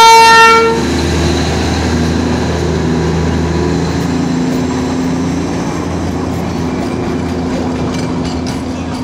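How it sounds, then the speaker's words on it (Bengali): A diesel-hauled heritage toy train of Darjeeling with three coaches rolls past on its way from Batasia Loop toward Darjeeling station, a close, steady rumble and clatter of wheels with a brief horn toot at the start. "বাতাসিয়া লুপ থেকে ফিরে যাচ্ছে আরেকটি হেরিটেজ টয় ট্রেন। এটি হচ্ছে ডিজেল চালিত।"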